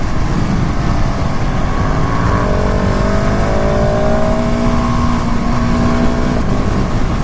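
A 2019 KTM SMC R motorcycle with a quick shifter pulls hard, its loud engine climbing through rising revs in steady sweeps, with constant wind rush over the microphone and no talking.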